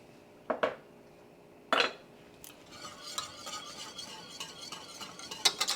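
Mac and cheese with blue cheese and sharp cheddar being stirred in a pot: a few separate clanks of a utensil, then a run of soft scraping and clinking, close and alone.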